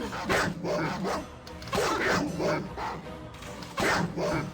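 A war dog in the video game Baldur's Gate barks repeatedly, a series of loud, close, gruff barks and yips in quick bursts with short gaps between them.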